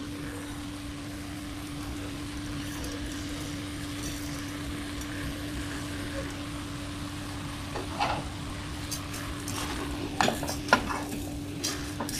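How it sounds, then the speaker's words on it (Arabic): Chicken shawarma with vegetables and orzo is stirred in a pan over a soft sizzle. A spoon scrapes and clinks against the metal, and the knocks grow sharper and more frequent toward the end, with no talking. "هقلب بقى الحلويات دي كلها كده."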